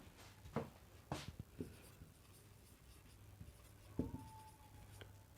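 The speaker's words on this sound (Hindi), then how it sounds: "तो आइए पहले हम यहाँ पर लिखते हैं" Pen writing out a ratio and proportion math solution on paper, heard as a few scattered, faint scratchy strokes at close range over a low steady hum, with no talking.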